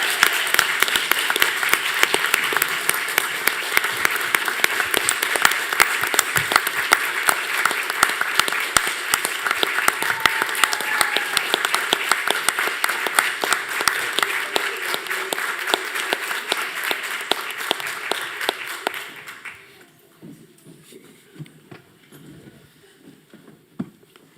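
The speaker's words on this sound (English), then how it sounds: "Please join me in a massive round of applause for our 2026 District Core Value Award winner" A large crowd at a school district board meeting applauds steadily and loudly for an award winner, dense sustained clapping for about twenty seconds before it stops abruptly and leaves a quiet room with faint scattered sounds.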